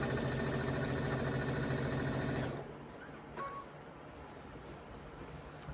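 A sewing machine stitches a quilt border in a loud, rapid, even whir for about two and a half seconds, then stops, leaving only faint room noise and a few small clicks.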